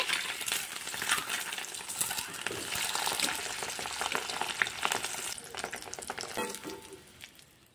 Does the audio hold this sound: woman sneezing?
no